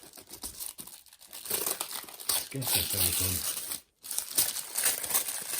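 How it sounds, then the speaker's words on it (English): Plastic packaging crinkles and tears while a Razer Kishi game controller box is opened, close and fairly loud, with someone speaking briefly over the rustling. "Nice bit of rustling."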